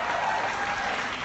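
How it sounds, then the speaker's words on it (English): Convention fans at HousCon 2016 break into a dense, steady round of applause, loud and sustained throughout with no pauses. "give yourself a huge, round of applause, pat on the back"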